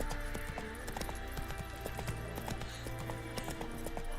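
Rhythmic hoofbeats as the horse Roach gallops in The Witcher 3, a steady clip-clop over a dense game soundtrack and ambience.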